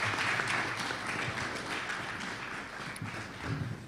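An audience applauds at a press briefing at a diaspora conference. Dense, continuous clapping fills the whole stretch at a moderate, somewhat distant level, with no speech over it.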